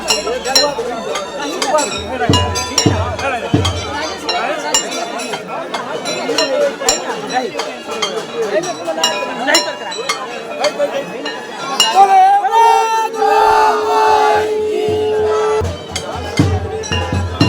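Large, dense crowd at a Durga Puja festival in Belnoti, Mithila, a constant murmur of many voices with clinking, shouts and festive noise throughout, someone talking close by over it.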